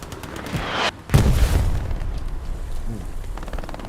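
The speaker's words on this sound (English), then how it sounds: "Unlucky puck getting hit with the friendly artillery" Artillery shells explode in the World War II shooter Hell Let Loose on the Carentan map, a sharp close boom followed by a heavy rumbling blast and lingering low rumble, with faint distant thuds after.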